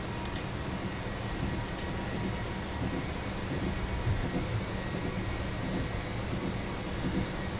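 A steady, unbroken whine and rumble from the Fokker 28's jet engines at low taxi thrust in a flight simulator game. The drone holds level throughout, with a few faint clicks and no voices.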